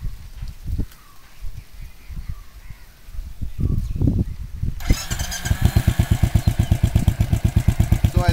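A Royal Enfield GT motorcycle with a vibration reduction plate fitted cranks over with uneven chugs, then fires and settles into a loud, rhythmic thumping single-cylinder idle close by.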